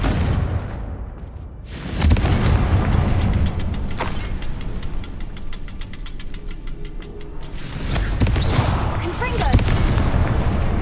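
A Confringo blasting spell explodes in the Hogwarts Legacy video game: loud, deep booms land at two points, each followed by a dense, rumbling roar of game effects.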